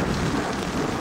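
A thunderstorm over the Yukon River brings heavy rain hissing steadily on surfaces, with a deep low rumble of thunder rolling underneath throughout, loud and close.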